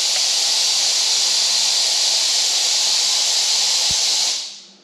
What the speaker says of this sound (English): Sorry, that was the air compressor.